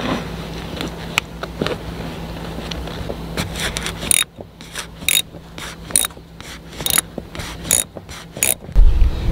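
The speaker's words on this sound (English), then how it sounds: "putting your socket in there and finding the bolt and undoing it" A socket ratchet loosens a seat bolt on a 2014 Kia Forte, producing bursts of sharp, close metallic clicks. They come in uneven runs with brief pauses, separated more clearly in the second half, and no one talks.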